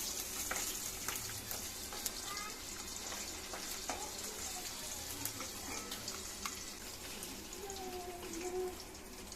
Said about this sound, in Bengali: শিঙি মাছগুলো বেশি ভাজা যাবে না অল্প একটু ব্রাউন কালার হয়ে গেলে নামিয়ে নিতে হবে